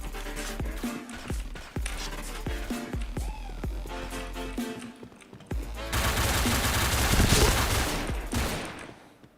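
Video game gunfire in Point Blank: rapid rounds of shots and machine-gun bursts, followed by a dense, sustained volley in the second half, loud with game effects and no clear speech.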